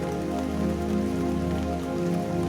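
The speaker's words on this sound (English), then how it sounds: "The rain falls outside your window." Rain falls outside a window in a steady, dense hiss with a low rumbling undertone, continuous and close, with no voices.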